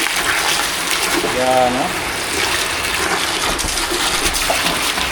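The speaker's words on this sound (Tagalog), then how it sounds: "Yung lakas ng tubig natin." Strong, steady rush of water gushing from a well pipe runs throughout, loud and close, with someone talking briefly over it.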